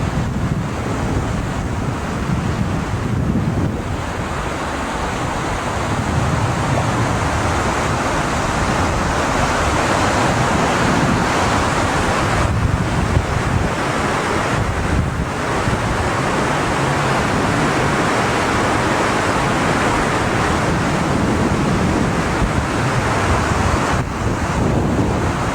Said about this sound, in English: Another part of the rapids.